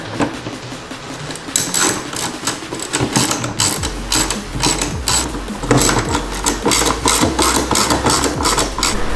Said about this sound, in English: you can take these 10mm screws, put them back in